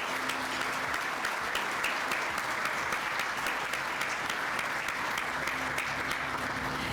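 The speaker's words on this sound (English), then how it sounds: "please give a big round of applause to all of our award winners today" An audience applauds award winners at a building and construction industry awards ceremony, a steady, even patter of many hands clapping throughout at moderate volume.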